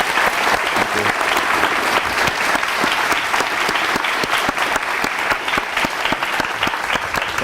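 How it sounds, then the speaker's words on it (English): Audience at an engineering-school evening conversation event applauds guest Steve Chen, a dense, steady round of many hands clapping that stays loud and full for the whole stretch. "I think we should give him a huge round of applause"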